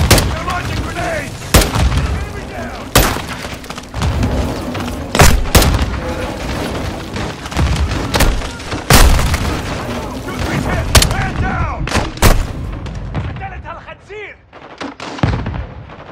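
In Call of Duty Modern Warfare 2, grenade explosions and heavy gunfire crack and boom repeatedly at close range, with shouting voices mixed into the battle.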